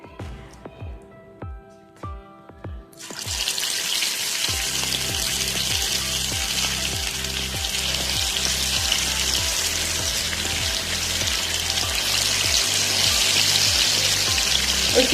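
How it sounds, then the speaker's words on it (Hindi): Fish dropped into hot oil in a pan for a Lahori fish fry, a few soft thuds, then a sudden loud, crackling sizzle that holds steady to the end with no talking. "ऑयल गर्म हो गया, अब हम इसमें फ़िश डालते हैं।"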